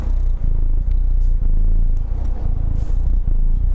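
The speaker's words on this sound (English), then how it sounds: "I want to see if I can catch his purring on the mic." A pet bird's low, steady purring rumble close to the microphone, continuous and loud, with faint scrapes and no talking.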